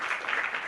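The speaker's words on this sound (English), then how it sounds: "A round of applause, ladies and gentlemen" Audience applause at a live youth conference on the SDGs: brief, steady crowd clapping, moderately faint and continuous.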